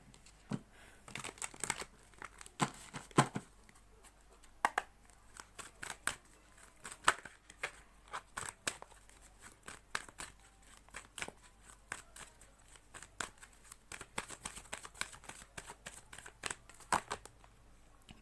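Tarot cards are shuffled by hand in soft, irregular riffling and flicking taps close by, running steadily throughout with no talk.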